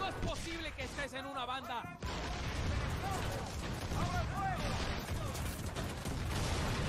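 Explosions and gunfire from the video game Far Cry 6 rumble and pop in dense bursts under a busy mix, with a voice speaking early on over the chaotic battle noise.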